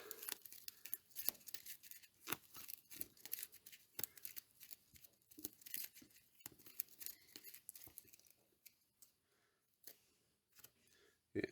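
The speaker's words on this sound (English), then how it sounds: "Shuffle my deck." Cards of a deckbuilding board game being shuffled by hand, a run of quick crisp papery riffles and snaps close by, busy at first and thinning toward the end.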